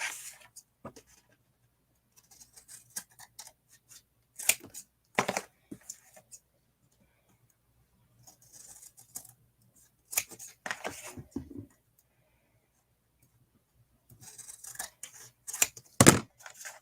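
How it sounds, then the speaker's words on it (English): Scissors snipping the corners off paper for a junk journal album, several short separate bursts of close, crisp cuts with quiet pauses between them. "I have cut off all 4 of my corners"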